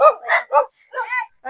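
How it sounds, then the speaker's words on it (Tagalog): Dog barking during a visit to a home in the Philippines, a few loud, close, short barks and yips mixed with people talking nearby. "Ay, aso."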